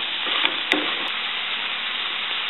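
Brussels sprouts and zucchini curry sizzling steadily in a pan as it stir-fries, a constant close hiss with a couple of faint clicks of a spoon.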